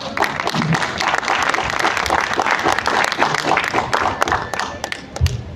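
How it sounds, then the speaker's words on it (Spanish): An audience at a literary event applauds guests, the nephews of Julio Ramón Ribeyro, with loud, dense clapping that holds steady for several seconds with occasional thumps. "Un fuerte aplauso para ellos, por favor."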